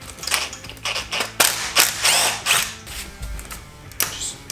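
A DeWalt power tool works on a damaged LS truck engine, sharp repeated rattling bursts and impacts in uneven rhythm, loud and close with short gaps between hits.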